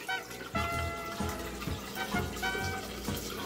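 Dry white wine pours from a bottle into a carafe in a home kitchen, a steady gurgling splash with rhythmic glugs as the liquid flows, close and moderately quiet without speech.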